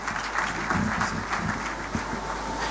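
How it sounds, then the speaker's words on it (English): A crowd at a pension strategy conference claps steadily for the keynote speaker, a thick even wash of many hands with a few sharper individual claps standing out, continuing without pause. "Keep clapping."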